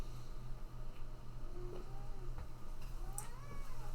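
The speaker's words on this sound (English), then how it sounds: "I have another kitty now" A pet cat meows a few times indoors, short faint calls over a low steady hum from nearby equipment, with no talking.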